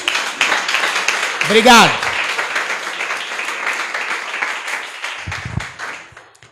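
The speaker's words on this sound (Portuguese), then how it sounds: "Você pode aplaudir a Jesus, amém?" Church congregation clapping after a prayer, a steady crowd applause lasting several seconds, with a voice speaking briefly over it.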